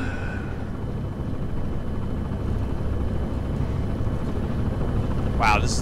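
Steady rotor drone of a helicopter in flight in Resident Evil 6, a constant low rumble throughout with a brief higher mechanical whine near the end.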